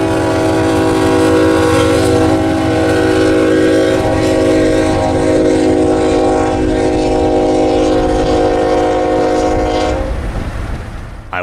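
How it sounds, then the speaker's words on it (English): A Union Pacific freight train pulls away from a siding near Houston, its steady rumble and harmonic horn tones sustained loudly for about ten seconds before easing slightly at the end, with no voices. "one of the UP trains I saw tied down earlier was getting a new crew, and was already departing"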